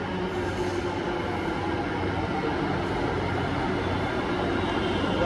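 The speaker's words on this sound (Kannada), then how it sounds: "ಒಂದೇ ಸತಿ 2 ಮೆಟ್ರೋ ಬಂದ್ಬಿಟ್ರು." Bengaluru Yellow Line metro trains pull into Silk Board Central metro station. A steady, loud rumble of rolling cars and wheels fills the whole stretch, and no one speaks.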